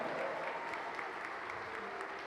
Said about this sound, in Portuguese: dá um forte aplauso a Ele